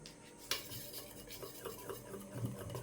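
Food colour powder being stirred into a mixture in a bowl, giving soft continuous scraping and light clinks of a spoon against the dish, with a sharper knock near the start, close and fairly quiet.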